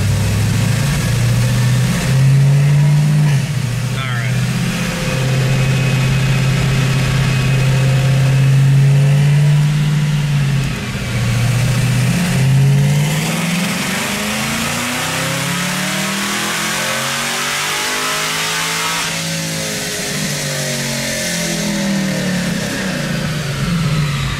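A Camaro ZL1 with a Magnuson 2650 supercharger revs hard on a dyno, holding a loud steady high note, then dropping and climbing again through sweeping engine tones, close and continuous with no talk.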